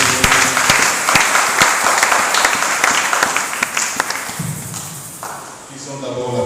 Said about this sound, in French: Acclame encore une fois de plus.